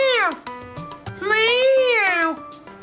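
A voice imitates a cat, drawing out two wailing meows, the second longer and rising then falling, close and loud.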